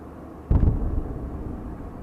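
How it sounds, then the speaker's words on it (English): One deep, heavy boom erupts suddenly in a Ukrainian city at dawn in 2022, then fades into a low lingering rumble with no voices. "As dawn was breaking, explosions rang out in several Ukrainian cities"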